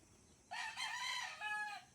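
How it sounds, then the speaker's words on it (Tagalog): A rooster crows once, a long and fairly clear call with a brief break near the end, at moderate distance in a quiet rural yard. Only a little faint background noise sits behind it. "yan ang mga manok yung maganda"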